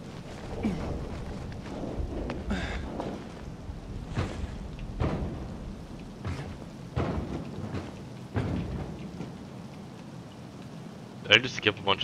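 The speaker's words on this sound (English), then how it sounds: "I think it's just the rain." Steady rain hiss with several rumbling thunder bursts rolling through in the video game Dying Light 2, and a voice talking over the storm at times.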